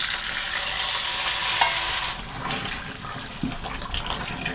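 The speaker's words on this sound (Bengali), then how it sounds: "ভালোভাবে একটু নেড়ে দিব, যেন ভাজনাটা সব জায়গায় ভালোভাবে লেগে যায়।" Goose meat being stirred in a pan with a fried spice mix, a steady sizzling, scraping hiss that carries on throughout and eases slightly near the end, with a few faint knocks of the spoon.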